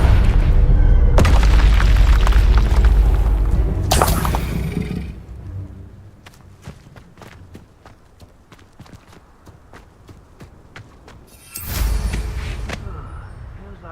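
Confringo fire-spell explosions in the game Hogwarts Legacy: loud booming blasts at the start and near the end, with a quieter stretch of clicking footsteps in between.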